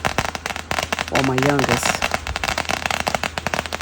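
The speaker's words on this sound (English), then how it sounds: "all these firecrackers was popping" Fourth of July firecrackers pop in dense, rapid crackling bursts through the whole stretch, loud and close, while a person talks over them.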